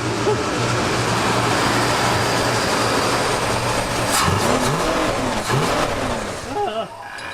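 A previously flooded Ford F-150 pickup truck engine runs steadily at close range with a rough, constant rumble, while people talk over it.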